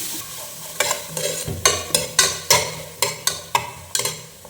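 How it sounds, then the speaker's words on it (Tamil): Onions sizzle in hot oil in a pan while a spoon scrapes through them in regular strokes, about one every half second, loud and close over a steady frying hiss. "இப்போ நான் வெங்காயம் போட்டுக்கிறேன்."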